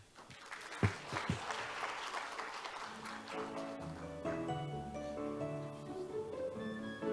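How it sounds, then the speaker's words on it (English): Audience applause fills the hall at a public administration conference in Jeju after a session ends, a sustained wash of clapping from a large crowd, with musical tones entering partway through and continuing beneath it. "Please give another big round of applause for our speakers and moderator, Batokdov Dorjgavov, head of the Department"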